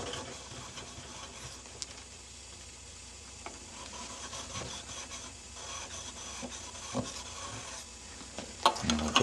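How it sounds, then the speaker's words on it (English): A knife blade is honed on a sharpening stone, giving soft, irregular rubbing and scraping strokes that grow louder near the end, with a few sharper scrapes and no speech. "push it up against the stone, and just a little bit higher. And we'll hone that."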